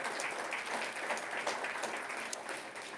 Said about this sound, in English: Let's give them a big round of applause from Boston